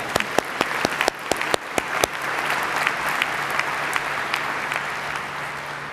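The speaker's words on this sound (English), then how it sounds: "join me for a round of applause and acknowledgement for your service and express your gratitude" A commencement audience gives a round of applause: sharp, loud individual claps at first, then swelling into a sustained wash of crowd clapping that slowly thins out.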